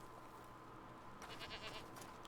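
A goat bleats in A Plague Tale: Requiem, a short, faint wavering cry over a low steady background hum with no one speaking.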